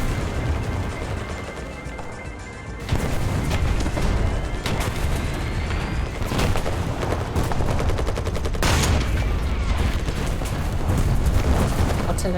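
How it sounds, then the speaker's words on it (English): Artillery shells land during a War Thunder tank battle with heavy booms and rumbling impacts, mixed with machine-gun and cannon fire. The combat noise is loud and continuous, with sharp blasts standing out. "There's the artillery coming in."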